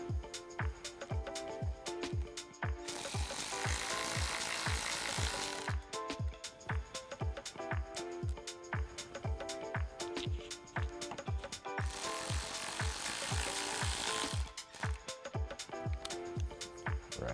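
A power driver works Torx screws into a Jeep Wrangler JL Bestop soft top, with rapid ratcheting clicks across the whole span and two longer bursts of steady motor whir, close and fairly loud.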